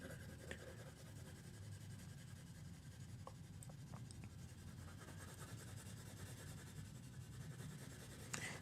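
A graphite pencil shades across drawing paper with a continuous soft scratchy rubbing, steady and close but quiet, with a few tiny ticks of the pencil tip.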